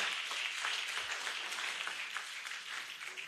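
A crowd claps continuously at a health professionals' annual scientific conference, the applause broad and even from many people in a large room, lasting the whole stretch without pause.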